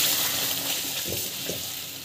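Water is poured into roasting rava for temple-style kesari and sizzles over a broad, steady hiss. A few soft splashes and gurgles sit close up, with no talking.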